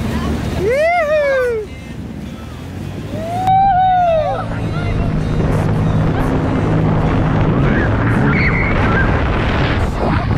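Jet ski accelerating on open water with a rising engine whine that sweeps up twice, then settles into a steady roar under wind noise, close by.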